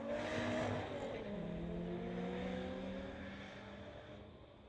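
Street-legal cars at a drag strip roar hard at first, then the engine note falls and fades as the run draws away into the distance.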